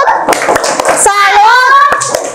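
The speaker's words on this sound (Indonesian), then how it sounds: "Kita tepuk salut dulu untuk kelompok 3." A classroom of children does a rhythmic 'tepuk salut' clap for group 3, sharp hand claps in a quick pattern mixed with children's voices chanting and talking.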